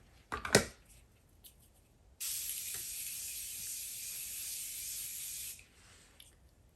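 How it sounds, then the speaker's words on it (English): A quiet click, then a Morphe Continuous Setting Mist spray hisses steadily for about three seconds before cutting off sharply. "I'm going to spray with the Morphe Continuous Setting Mists."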